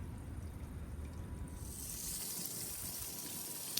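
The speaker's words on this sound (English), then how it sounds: "this is our normal water pressure right out of the hose" Water runs from a garden hose at normal household pressure while bushes are watered, a steady, close hiss of flowing water that brightens midway and continues without talk.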